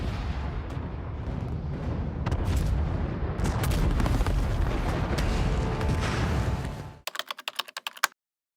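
Gunfire and explosions from a chaotic World War II raid scene in a film, with a German resupply ship sunk in a port, form a loud continuous rumbling barrage with sharp cracks that cuts to a short burst of distinct shots at the end.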